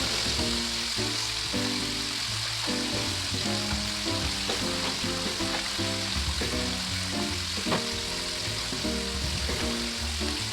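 Breaded swai fish fillets pan fry in hot oil, giving a steady, dense sizzle with crackling pops throughout, close and loud, with a low hum underneath.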